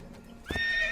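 A horse in Assassin's Creed 2 gives a short, close whinny with a brief thud of hooves just before it, the whole sound lasting under a second.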